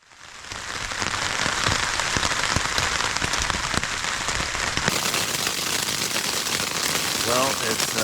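Heavy rain pelts the outside of a tent at a campsite in Grayson Highlands State Park before dawn, a dense, steady, close patter that holds loud and unbroken from start to finish.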